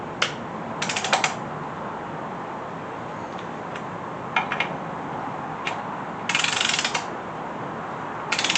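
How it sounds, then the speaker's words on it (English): A ratchet torques down bolts on a Small Block Chevy 350 engine build, giving short bursts of sharp, close clicking separated by pauses, with a few isolated ticks between strokes. "Hands tight, torque these things down."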